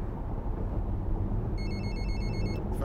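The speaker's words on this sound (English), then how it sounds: "Phone's ringing." A phone rings in Fernbus Coach Simulator with a short electronic ring pattern. The tones come in briefly over a steady coach engine rumble near the end.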